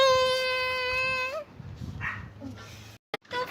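A puppy gives a long, high, wavering whimper close by, then breaks off into softer snuffles and rustles, with a brief loud knock near the end.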